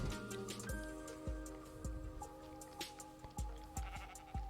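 Sheep bleating in the Minecraft video game, several short game bleats over a busy backdrop of in-game music and sound effects, with no one talking.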